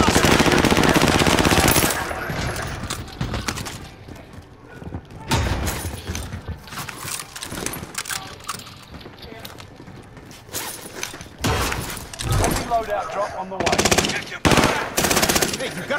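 Automatic weapons fire in loud, rapid bursts and scattered single shots during a Call of Duty: Modern Warfare quads match, with players talking over the gunfire between the louder volleys.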